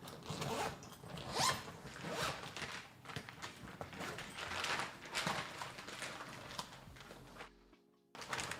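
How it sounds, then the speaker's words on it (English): A zipper on a DoorDash delivery bag is pulled open in a series of close, rasping strokes, several quick runs with brief pauses between, ending in a short silence and one last tug. "I take this off and the zippers are right"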